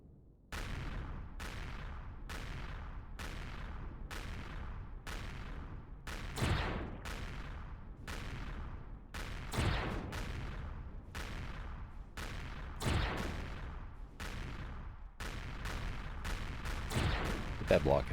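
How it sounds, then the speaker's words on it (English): Rapid bursts of enemy gunfire in the space game Empyrion, sharp repeated shots crackling at a steady rhythm throughout, with a few heavier booming impacts, loud and close. "Yep, already getting shot at."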